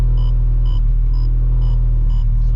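A modified 600 HP Honda Civic Si idles with a steady, heavy low rumble and constant vibration, close and loud, with faint periodic higher tones pulsing above the drone.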